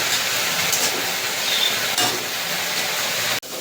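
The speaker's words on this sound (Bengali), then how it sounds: "নারকেলটাকে দিয়ে ভালো করে একটু ভেজে নেবো।" Coconut paste with onions frying in oil, a steady close sizzle with occasional stirring clinks, continuous throughout and then cut off abruptly near the end.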